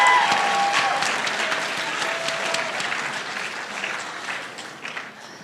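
Audience clapping at a high school Poetry Out Loud finals, a dense burst of applause that starts strong and gradually thins and fades over a few seconds.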